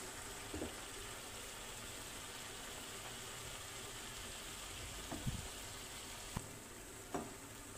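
Large fish pieces fry in masala in a pan for Kerala fish dum biryani, giving a faint, steady sizzle with a few soft stirring clinks toward the end.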